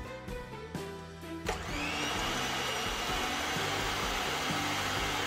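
An electric hand mixer beats two eggs with vanilla essence for a Christmas cake batter, starting with a few short bursts and then running as a steady, loud whirring drone that holds without pause.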